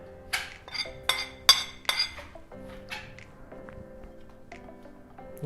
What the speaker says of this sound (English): I'm just going to get a spoon and spoon it on nicely